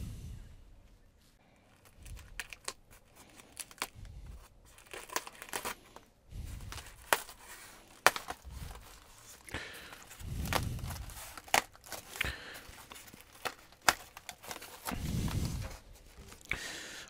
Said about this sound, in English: let me just gently unwrap this